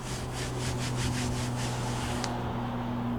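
A rhythmic rubbing and scrubbing on an RV roof surface, repeated strokes close by that stop partway through and leave a low steady hum.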